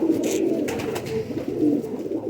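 A purebred pigeon coos close by in low, soft, rolling notes, repeated several times with a faint flutter between calls.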